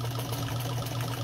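Nelco sewing machine running a straight stitch at a buttonhole, a brief, steady, close mechanical hum with a fast rapid chatter of the needle.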